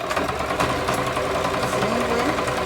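A sewing machine runs continuously at close range, sewing a buttonhole with a steady, rapid mechanical whir and no speech.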